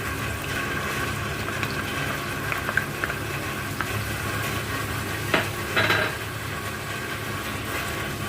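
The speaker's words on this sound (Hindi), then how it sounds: "और फिर ऑयल सेपरेट होने तक हमें इसे पकाना है पेस्ट को।" A yogurt-based masala paste bubbles and sizzles in a pan while cooking down for a chicken dish, broken by occasional stirring scrapes and a louder spoon rattle near the middle; steady and close, no talking.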